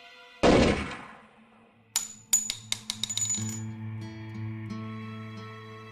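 A revolver gunshot sound effect: one loud blast, followed by a run of bright metallic shell casings clinking and rattling as they drop and settle, ringing faintly afterward.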